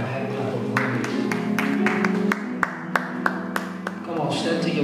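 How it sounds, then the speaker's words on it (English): Worshippers in a church clapping in praise, a few sharp distinct claps standing out over a steady bed of music and crowd voices. "give God a hand clap of praise"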